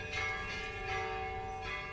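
A church bell at St. Catherine's Monastery in Sinai rings with sustained, ringing tones that swell in a few slow, even strikes, fairly distant and alone without voices.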